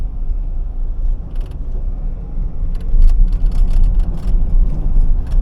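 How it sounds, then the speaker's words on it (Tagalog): A loose part inside a moving car rattles and clanks in irregular bursts over a low steady road and engine rumble heard from inside the cabin. "Kumakalanching na dito sa ating sasakyan."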